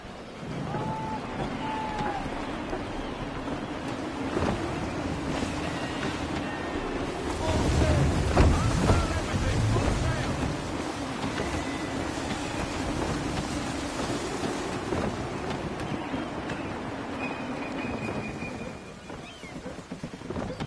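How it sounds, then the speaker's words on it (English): Gusty wind at sea aboard a sailing ship in Assassin's Creed III, a steady broad rushing roar with waves and hull noise, swelling briefly midway, continuous throughout. "Gusty winds can be difficult to manage."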